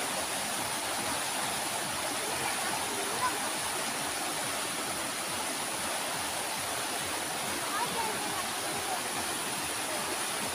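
A strong irrigation river surges and rushes without a break, loud and steady, with a constant roar through the whole stretch.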